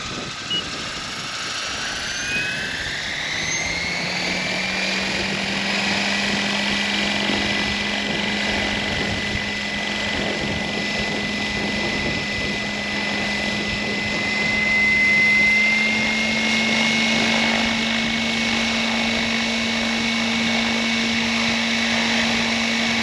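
An RC scale Bell 230 helicopter built on a Trex 700E spools up and flies nearby, its steady whining rotor hum rising in pitch and then holding at a constant drone, with high turbine-like whine above and wind in the background.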